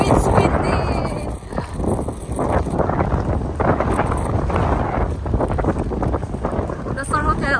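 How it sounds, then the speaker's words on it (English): Strong gusting wind buffets the microphone outdoors on a Boston street near Beacon Hill and Back Bay, a steady rushing roar lasting throughout with a brief lull partway. "Oh, it's windy!"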